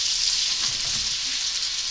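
Pork pieces fry in a pan with a steady, close, even hiss of sizzling fat, continuous and without voices.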